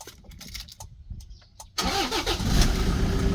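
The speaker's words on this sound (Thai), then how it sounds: "เดี๋ยวพาพี่น้องสตาร์ทเครื่องยนต์นะครับผม" A used pickup truck engine cranks briefly with a starter whine, catches, and settles into a loud, close idle with a slight rev.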